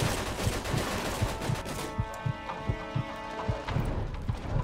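Gunfire in the Mafia 2 video game on PS3: a rapid run of sharp shots over dense game noise, followed by a few more spaced, punchy reports as the busy background thins out.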